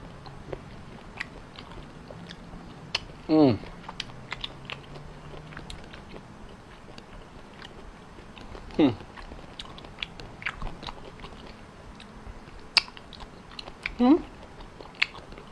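Raw fresh squid, eaten sashimi-style, is bitten and chewed close to the mic, with three distinct wet, crunchy bites spaced several seconds apart over soft background noise and quiet voice sounds.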